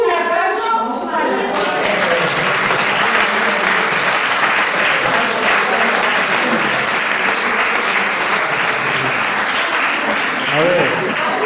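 An audience at a prayer-group gathering breaks into loud, sustained clapping that runs unbroken for about eleven seconds, with a few voices mixed in.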